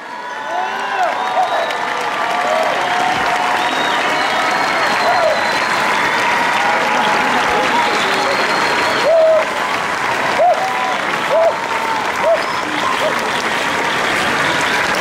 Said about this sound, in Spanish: Ese aplauso fuerte que se escuche para estos increíbles voladores.